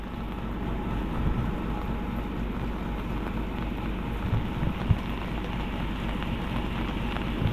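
Rain falling steadily, a continuous soft patter and hiss at moderate level, with a few sharper drops or knocks and a low rumble underneath.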